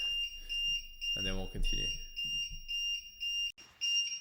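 A cell voltage monitor on a low battery emits repeated high-pitched electronic beeps in a steady on-off pattern, while a person speaks briefly over it.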